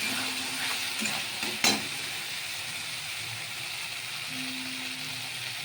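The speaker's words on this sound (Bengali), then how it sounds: "এখন দিয়ে ভালো করে মশলাটা ভাজতে হবে" Steady sizzle of spices frying in a pan, with a few scrapes and clinks of a spoon stirring, close by and moderately quiet.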